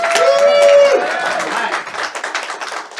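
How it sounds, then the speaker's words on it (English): Audience clapping at a magic show as a volunteer comes up, brisk and fairly loud, with a whistle near the start and clapping continuing unevenly to the end. "All right, big round of applause,"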